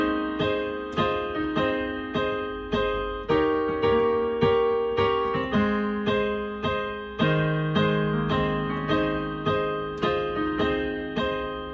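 Piano playing the chorus of a song, steady repeated chords struck in an even rhythm, close and clear, with no voices.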